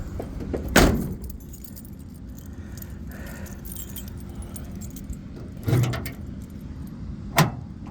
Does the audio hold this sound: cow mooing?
no